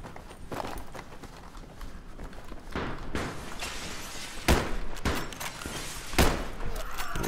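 Battlefield 3 Gun Master gameplay with sharp gunshots cracking out in irregular single and paired bursts over a busy, noisy battlefield background, with a player talking intermittently.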